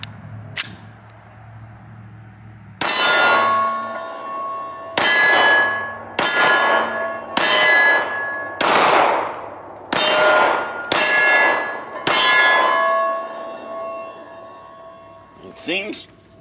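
A Smith & Wesson SW9VE 9mm pistol fitted with an Apex flat face trigger kit fires at an outdoor range, sharp loud shots striking steel targets with ringing clangs, about eight spaced hits in a steady rhythm.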